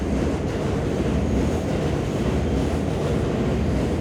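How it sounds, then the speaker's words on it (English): A train passes outdoors as a continuous, loud rumble and roar that fills the moment without any clear pauses. "If you listen closely, you can hear the train."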